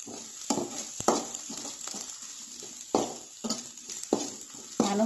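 Vegetables for Maggi frying in a pan over high flame, stirred with a utensil: a steady sizzle broken by repeated sharp scraping clanks against the pan, close and moderately loud.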